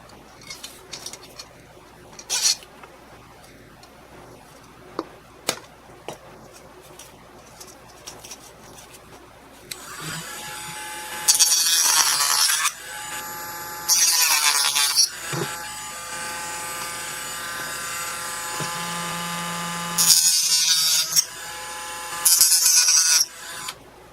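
A small power tool cuts a slot in a wooden coin bank in several separate loud bursts of whirring, with quiet handling taps and clicks before them and birds cooing faintly in the background.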